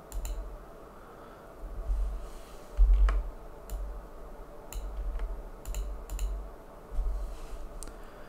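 A computer mouse clicks in sharp, isolated taps at irregular intervals, about a dozen over several seconds, against a faint steady background hum.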